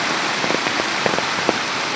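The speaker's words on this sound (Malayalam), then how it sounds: "ഇതിലൂടെയൊക്കെ വെള്ളം ഒഴുകുന്നതിൻ്റെയാണ് കേട്ടോ" Heavy water flowing loudly through a village in Kerala just after a downpour, a dense, steady rushing hiss with scattered droplet splashes throughout.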